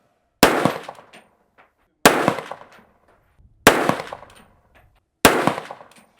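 Four loud shots from a Sig Sauer MCX Spear .308 rifle ring out at even intervals at a target, each a sharp crack followed by a short fading echo, with quiet between them.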